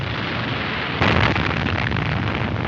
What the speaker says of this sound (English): There goes the underwater blast.